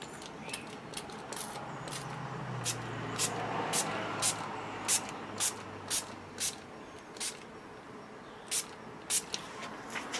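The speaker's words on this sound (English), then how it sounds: "Once you've got it coming out of the surface of the sprayer nozzle, all you need to do is just coat the exterior." Aqua Blocker polymer spray misted from a sprayer nozzle onto fabric, heard as a string of short, sharp hissing spurts in irregular rhythm over a low background rumble, fairly close.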